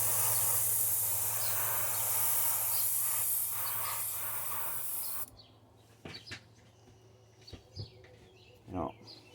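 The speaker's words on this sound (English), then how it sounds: "Then we're just gonna spray the silver." Silver paint sprays from an airbrush onto a thin crankbait lure in an old school shad pattern, a steady close hiss that stops partway through, followed by faint clicks and handling sounds.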